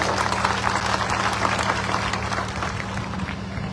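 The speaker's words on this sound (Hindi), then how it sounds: "हम चाहते हैं कि छोटी जोरदार ताली से आदरणीय बाबूलाल जी का स्वागत करें" Crowd applause welcoming an honored guest at an outdoor election rally in Tundi, Dhanbad, dense steady clapping over a low electrical hum, holding fairly even before easing slightly toward the end.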